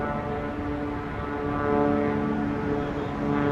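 A JetBlue airliner lands on runway 25 at Montego Bay, Jamaica, with a loud, steady engine drone and a layered whine that swells slightly as it passes close by.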